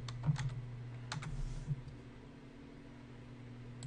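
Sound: typing on a computer keyboard

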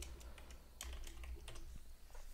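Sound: typing on a computer keyboard

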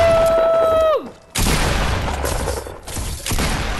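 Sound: gunfire in the video game Fortnite

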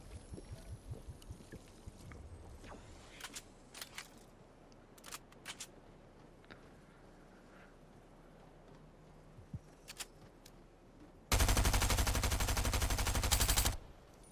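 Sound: gunfire in Fortnite video game

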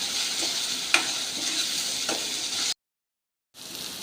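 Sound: sautéing onion and tomato in a pan

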